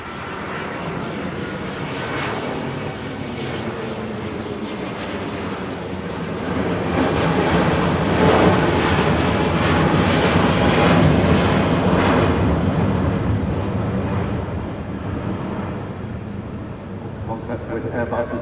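Airbus A350-900 airliner making a slow flypast at the Farnborough airshow, a broad, loud jet engine roar that swells to a peak midway and eases off, with a commentator talking over it.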